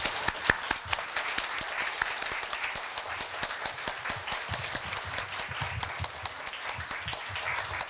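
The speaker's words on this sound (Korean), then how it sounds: "먼저 최영태 회장님과 사모님께 뜨거운 박수를 부탁드립니다." An audience at a Korea University event applauding to welcome guests: continuous clapping from a moderate crowd with distinct individual claps standing out, steady for the whole stretch and free of speech.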